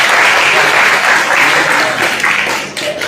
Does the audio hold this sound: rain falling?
no